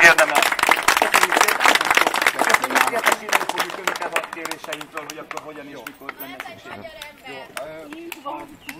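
Enthusiastic applause for a mayor at a car demonstration event, dense clapping loud at first then thinning out, with a voice speaking over the tail end.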